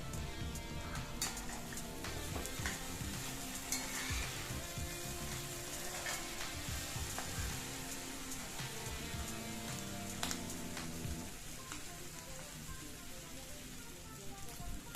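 Clam meat stirred and fried in oil for a Kerala-style clam thoran, a steady crackling sizzle with scattered spatters and spoon scrapes running throughout, fairly close and moderately loud, with no talking.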